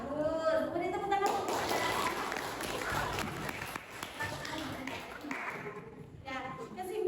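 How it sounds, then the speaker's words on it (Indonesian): Classroom applause from a group of students, a burst of steady clapping lasting several seconds that fades toward the end, with voices speaking around it. "Beri tepuk tangan."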